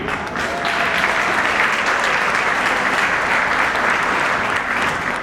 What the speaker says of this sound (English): let's give a warm round of applause to Mrs. Laxel Bibi.